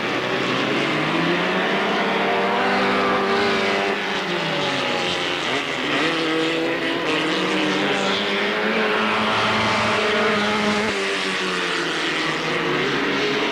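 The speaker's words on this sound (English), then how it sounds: "so we're away for the first race of the Grand Prix midgets this afternoon" Grand Prix midget race cars starting a race at Alwalton Raceway in 1983, a pack of engines snarling and revving together, loud and close, with pitches climbing and dipping as they pull away.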